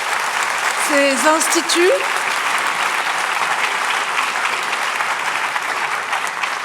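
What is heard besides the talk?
applause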